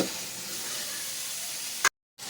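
Sliced onions sauté with a pinch of salt in a pan for a chicken curry, giving a steady, close hissing sizzle that cuts off briefly near the end.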